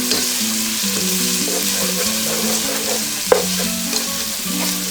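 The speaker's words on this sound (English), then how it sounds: "We'll add about 1 tablespoon of ginger garlic paste." Ginger garlic paste sizzling among fried onions in a pan, a loud close continuous frying hiss with low bubbling and one sharp utensil clink, no voices.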